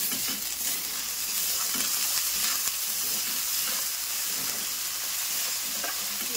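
Spice masala sizzling hard over a high flame for chana masala, a continuous close frying hiss with occasional stirring scrapes and no voices.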